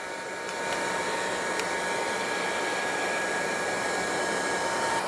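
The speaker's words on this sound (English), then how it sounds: "I use the heat gun to push the wax down into the surface of the wood." A heat gun blows a steady, loud, even whoosh with a faint high whine while melting heavy wax into the surface of wood, running alone without pause from start to finish.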